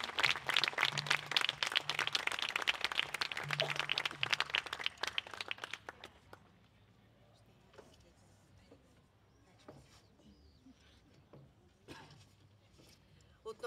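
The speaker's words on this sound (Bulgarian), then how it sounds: "Отново аплодисменти." Concert audience applause at a summer arts event in Shumen, a dense burst of clapping for about six seconds that then thins into scattered claps, with faint voices underneath.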